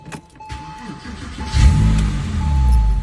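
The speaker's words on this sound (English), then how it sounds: "Now let's go ahead and turn that car right back on" A clean 2004 Porsche 911 4S with a manual transmission starts up about halfway through, its engine catching into a low, steady rumble that carries on to the end after a quiet lead-in.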